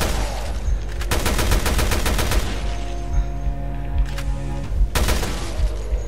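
Resident Evil Revelations 2 gunfire: loud bursts of rapid automatic shots in two volleys, with a low rumbling background and tonal hums between them.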